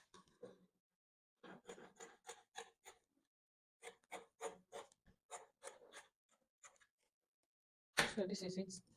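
Scissors snip through dress fabric in quick repeated strokes, grouped into short runs with brief pauses, close and fairly quiet, ending in a louder, denser burst of cutting.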